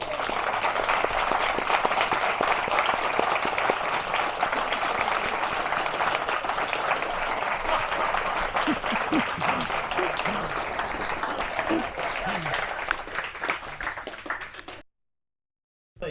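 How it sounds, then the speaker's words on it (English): Sustained applause and clapping from the crowd at a Brazilian jiu-jitsu promotions and awards gathering, dense and steady, with a few scattered voices, then tapering and cutting off abruptly near the end. "so one final applause for everybody"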